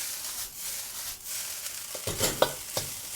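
Fried rice turned and stir-fried in a hot wok for Chinese special fried rice, giving a steady sizzle with scraping and tossing bursts near the end, close and alone.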